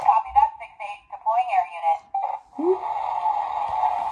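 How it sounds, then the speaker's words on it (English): A Matchbox police station toy playset sounds its electronic emergency alarm, a tinny steady synthesized tone with faint warbling that starts after a person's talk and continues alone to the end. "push button for emergency alarm"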